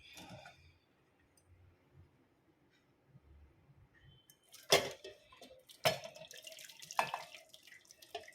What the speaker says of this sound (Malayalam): ചൗവരിയുടെ വെള്ളം വാർത്തെടുക്കാൻ വേണ്ടിയിട്ട് ഇങ്ങനെ കുഴിയുള്ള ഒരു പാത്രമാണ് വെച്ചിരിക്കുന്നത്